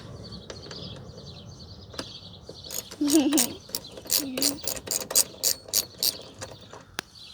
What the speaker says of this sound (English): This sounds like you're using a wrench. Well, it technically is.